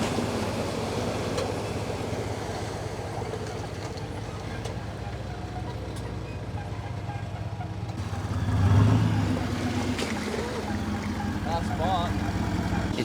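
A petrol engine in a 4WD driving in an off-road convoy rumbles steadily beneath wind and outdoor noise, swelling briefly louder midway, with people talking over it.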